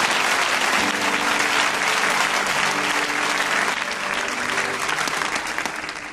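Church congregation at a Pentecost service breaks into sustained applause and cheering, a dense steady crowd clapping that stays loud throughout and eases slightly toward the end.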